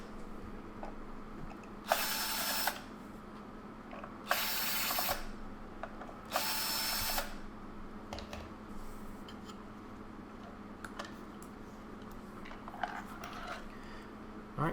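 A power drill backs screws out of a hoverboard battery pack, with three short, loud whirring bursts of a few seconds each over a faint steady hum, followed by light handling clicks.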